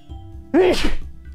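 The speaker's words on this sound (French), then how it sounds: "Je vais éternuer, pardon." A single sharp sneeze bursts out close by, with a quick intake and explosive release against a faint background hum.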